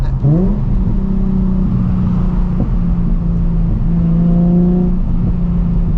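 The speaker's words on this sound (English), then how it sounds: "if I tap the accelerator, you get like these mini backfires" A Nissan 350Z with an aftermarket exhaust idles and revs in a steady low drone, with a few small pops and burbles from the exhaust around a brief throttle blip.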